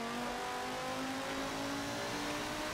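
A racing car engine in Forza 7 roars at sustained high revs, loud and continuous with a steady tonal whine throughout, no talking over it.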